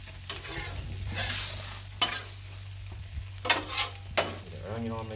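Onion and sloppy joe mix sizzle on a 22-inch Blackstone griddle outdoors, with a steady frying hiss broken by several sharp spatula scrapes and clanks against the flat top.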